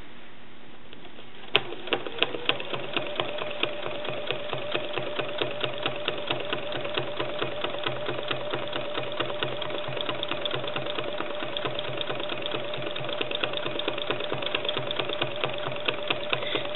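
Sewing machine thread sketching on a painted art quilt, running steadily and close with a fast, even mechanical stitching rhythm after a brief quiet start.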